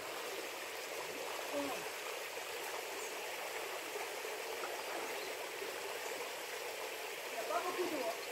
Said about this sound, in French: Rivière de montagne.